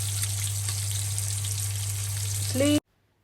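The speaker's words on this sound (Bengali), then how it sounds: "সো এখানে আমি পানি দিয়ে দিলাম।" Water is poured into a pan of frying taro stolons, a steady loud frying sizzle with a low hum beneath, rising in a brief splashy surge before cutting off abruptly.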